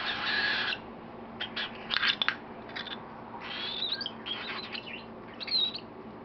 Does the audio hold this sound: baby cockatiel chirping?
yes